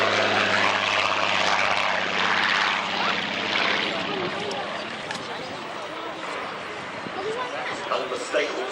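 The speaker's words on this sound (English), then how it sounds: "Unmistakable sound of that Griffin engine from above." A Griffin-engined aircraft passes overhead at an airshow, a loud broad propeller-engine roar with a steady low harmonic drone that fades somewhat after a few seconds, with a crowd and commentary under it.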